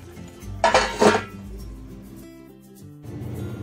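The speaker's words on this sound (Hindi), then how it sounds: "बीच बीच में फ्रेंड्स इसे हिलाते रहें ताकि सब्जी जो है हमारी तली में ना लग जाए।" A spoon stirs cabbage and pea sabzi in a metal cooking pot, giving two sharp clinks and scrapes close by, then a low steady background.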